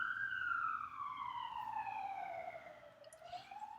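An ambulance siren wails past, a steady descending tone that fades as the vehicle moves away, heard clearly but at a moderate distance.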